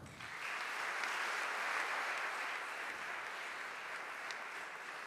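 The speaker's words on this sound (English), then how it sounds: "An applause." Applause from a church assembly rises quickly and holds as a steady wash of clapping for several seconds, moderately distant.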